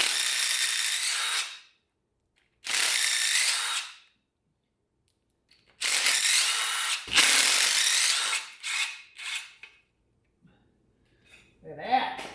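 Power tool bursts loosening bolts on a 333,000-mile LQ4 V8 engine during a teardown, several loud whirring runs of a second or two separated by pauses, then shorter stuttering bursts and faint handling noise near the end.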